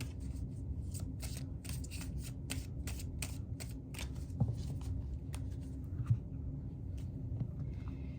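Tarot cards from the Fearless Familiars deck are shuffled and drawn, giving a steady papery riffle and slide with repeated flicks and a few sharper snaps, close and alone without talk.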